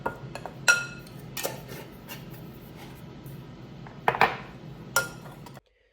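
Several sharp clinks and taps of a spoon against a bowl ring out at irregular intervals while spices and chilli powder are mixed, over a quiet kitchen background.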